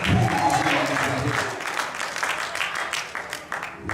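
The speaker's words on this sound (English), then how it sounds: "Give God a hand clap" Congregation clapping at a church minister's anniversary service, a dense burst of hand claps that rises with the voices and then thins out toward the end, with murmuring voices and some speech mixed in.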